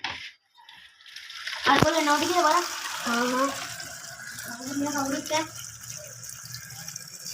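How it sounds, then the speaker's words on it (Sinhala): Water gurgles into a Sprite bottle as it is filled, with rising bubbling tones close by, while people talk over it. "දැන් වතුර පුරවමු."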